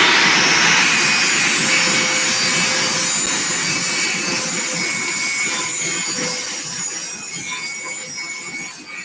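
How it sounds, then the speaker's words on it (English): An angle grinder cutting off a protruding metal tip during a log arch build, a loud continuous harsh grinding roar that holds steady and slowly fades toward the end, with no speech. "Just grind that tip off."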